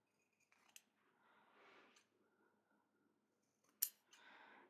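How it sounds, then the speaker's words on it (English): Scissors snip through fabric seams and corners of a fat-quarter sewing project: a few crisp, close cuts separated by soft rustling, with a loud sharp snip near the end, very quiet overall. "you need to get your scissors and give your seams a bit of a trim and trim across the corners as well"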